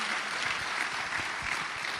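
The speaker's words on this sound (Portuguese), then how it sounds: "Vamos aplaudir ao Senhor por isso?" A church congregation applauds during a service, a steady wash of many hands clapping at once, fairly close and sustained throughout.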